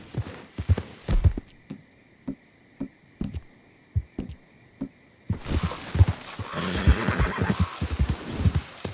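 A horse in Red Dead Redemption 2 being urged on, its hooves clip-clopping at a steady trot, with a high tonal in-game sound partway through and a denser burst of hoofbeats and noise near the end.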